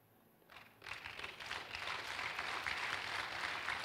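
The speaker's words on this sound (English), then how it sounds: "why are we clapping?" A church congregation in a cathedral bursts into applause, the clapping rising quickly and holding as a dense, sustained roll of many hands.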